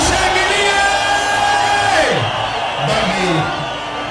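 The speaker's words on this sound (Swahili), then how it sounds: "Vijana tushangilie kwa makofi ya nyao." A large crowd at a political rally in Nairobi cheers loudly and steadily with whoops and yells, a dense, continuous roar that shifts pitch partway through, with voices mixed in.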